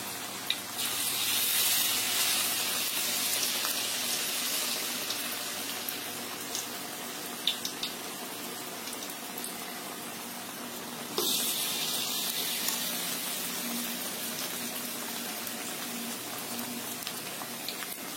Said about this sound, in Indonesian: Sekali goreng 4 atau 5 cukup.